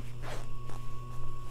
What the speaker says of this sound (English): So you split the zipper